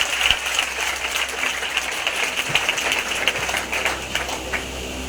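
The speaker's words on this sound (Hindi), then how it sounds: "एक जोरदार ताली प्रभु यीशु के लिए" A church congregation claps for Jesus in a steady, dense burst of applause that fills the room evenly from start to finish.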